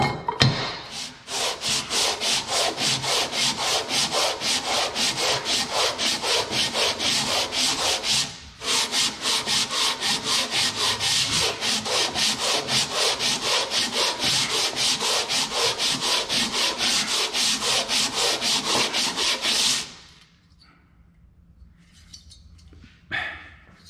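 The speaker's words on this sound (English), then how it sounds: "We'll sand on a little bit more and see what happens." Steady back-and-forth sanding strokes on the gasket surface of a Wisconsin engine cylinder head, loud and close, running continuously for about twenty seconds with one brief pause, then stopping abruptly to quiet.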